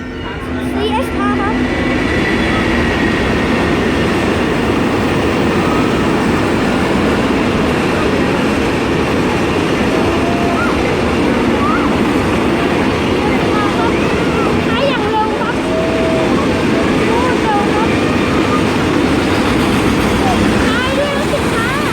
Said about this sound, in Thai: ก็รถจาก CSR เข้าสถานีชนบุรีครับ